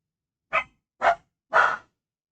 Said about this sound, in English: There they go again. The dogs.